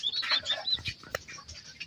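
Native country hen making soft clucking and chirping calls close by, with short bursts and a brief sharp peep, among other faint birds in a rural coop.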